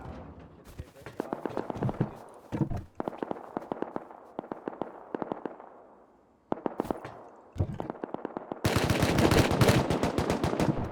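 Gunfire in the video game Rust during a base raid: rapid bursts of automatic shots in clusters with brief gaps, ending in a dense sustained volley.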